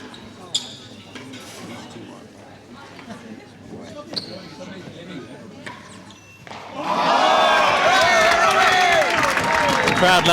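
Crowd applause in a real tennis gallery, starting with scattered claps beneath commentators' voices, then erupting into loud, dense sustained clapping for the last few seconds.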